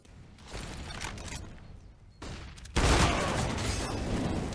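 In a Counter-Strike match on the Inferno map, a grenade goes off with a loud blast near the start, then a dense, close burst of gunfire keeps rattling and roaring through the rest of the moment.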